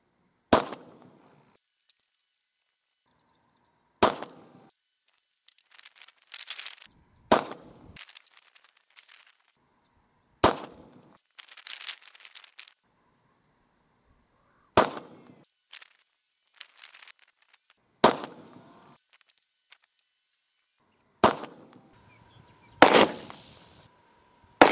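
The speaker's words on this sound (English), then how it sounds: "try some jacketed ammunition and see what happens." A .45 Auto pistol with an experimental aluminum barrel fires jacketed ammunition: eight sharp, loud gunshots spaced a few seconds apart, with quieter handling clicks and rustling between shots.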